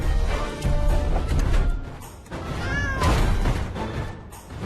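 A kitten gives a few short, high meows amid a busy, noisy background of clatter and movement in an animated Transformers Rescue Bots Academy episode.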